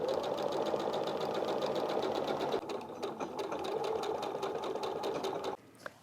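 A sewing machine hums steadily and close by for about five seconds as it sews the hems of a fabric dust bag, then stops, leaving a few faint handling clicks.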